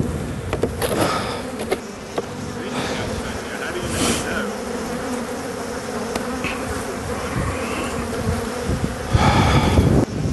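Honey bees hum loudly and continuously around an opened hive during a hive split, a dense, close swarm buzz with soft, brief handling knocks mixed in.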